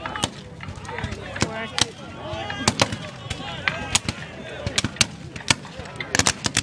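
Gunfire at a Civil War reenactment, with sharp, loud musket and artillery reports cracking out irregularly, some in quick clusters, while people talk steadily nearby.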